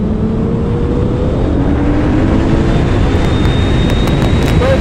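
A Ferrari Monza SP1 runs flat out on a track, its engine a loud, continuous roar whose pitch climbs steadily as it pulls through a curve.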